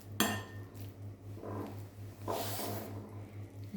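Ripe bananas mashed in a bowl, a utensil scraping and clinking against the bowl in a few uneven bursts over a steady low hum, with no voices.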